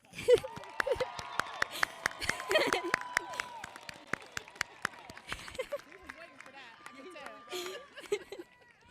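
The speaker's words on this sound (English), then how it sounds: "I would like to give a special shout out and a round of applause to my Vice President, Chino Spearman" An audience at a commencement ceremony applauds for the Vice President, a steady patter of many hands clapping with some cheers and laughter, fairly distant in a large space, before fading out.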